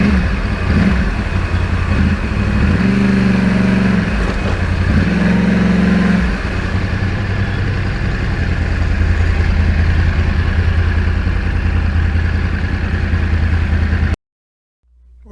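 A Yamaha R1 crossplane sport motorcycle cruises along a highway with a steady, loud engine drone and wind, rising in brief revs around the shift points before the sound cuts off abruptly near the end.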